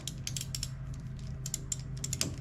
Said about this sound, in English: loosen this bolt right here.